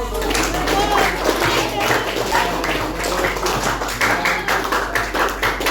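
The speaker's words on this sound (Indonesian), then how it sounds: "Tepuk tangan untuk saya." Students in a classroom break into applause, a dense, continuous wash of many hands clapping close by with steady rhythmic patter and some voices over it.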